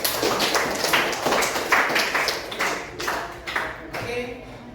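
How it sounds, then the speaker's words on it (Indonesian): A group of people claps their hands together, a lively burst of applause in a room, with individual claps audible in a brisk, uneven rhythm that gradually thins out toward the end. "Mari kita tepuk tangan untuk"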